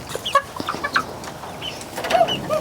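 A black copper Marans hen clucks in a short, irregular series of soft, close calls, with low background rustling and no talk.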